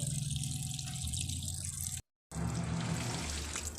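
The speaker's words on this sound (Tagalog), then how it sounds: "Tutulo-tulo pa rin yung tubig niyan" Water runs and trickles into an automatic washing machine filled without a tap, a steady flow broken by a brief gap, then resuming with a low churning hum.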